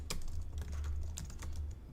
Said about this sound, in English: my typing is bad today